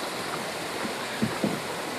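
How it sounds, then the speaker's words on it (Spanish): Tamul waterfalls near Cueva del Agua roar as a steady, broad wash of falling water heard from nearby, with a couple of faint splashes or knocks breaking through the constant rush. "empiezan a salir las cascadas."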